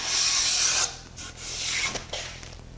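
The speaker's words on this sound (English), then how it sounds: "all it takes is a few wipes with this little sanding block and a sharp piece of sandpaper to make these faces ready for stain and lacquer" A small sanding block with sharp sandpaper rubs over the faces of a wooden moulding, giving close, steady rasping strokes, one long pass and then several shorter wipes.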